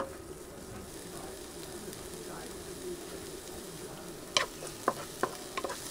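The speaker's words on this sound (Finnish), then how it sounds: "Öljy on sen verran lämmennyt, että voidaan laittaa sipulit sinne." A soft, steady sizzle of onions frying gently in oil in a pan, with a few sharp clinks and taps near the end.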